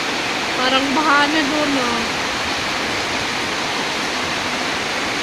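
Heavy rain pours down in a dense, steady hiss that stays loud and unbroken throughout, while a voice talks briefly near the start.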